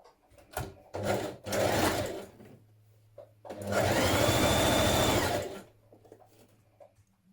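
A sewing machine stitches a 1 centimetre seam on a dress in short bursts followed by one longer run, a loud rapid whirring that stops and starts with a faint motor hum between runs.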